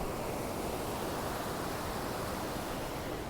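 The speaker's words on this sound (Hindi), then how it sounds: "इसका शोर आप मेरे माइक में सुन भी सकते हो पानी का।" Rushing river water at Sahastradhara, Uttarakhand, a broad steady roar of flowing water, continuous and close, with no voices.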